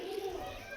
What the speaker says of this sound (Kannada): ನೋಡಿ ನವಿಲು ಕೂಗ್ತಾ ಇದೆ ಆ ಕಡೆ